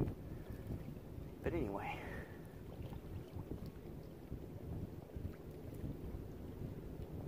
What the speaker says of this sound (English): The breeze is starting to pick up, so I'm sure you can hear that on the camera.